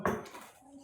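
A single sharp clink of a metal spoon against a dish, near and brief, fading quickly.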